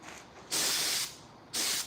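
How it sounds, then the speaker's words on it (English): Two bursts of aerosol spray hissing, the first about half a second long, the second shorter, loud and close, with a faint hiss between. "Let me just spray it real quick."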